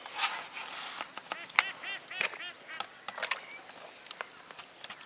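A duck quacks repeatedly in short, raspy bursts, fairly close, with scattered outdoor noise between calls at a carp fishing lake.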